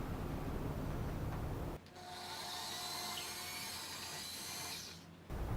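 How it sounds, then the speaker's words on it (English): A power drill boring into foam whines steadily for about three and a half seconds at close range, with a constant motor hum and no talk. "When you drill foam, you got to be real cautious because the drill bit can wander real fast."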